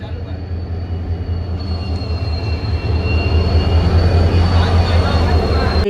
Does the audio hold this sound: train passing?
yes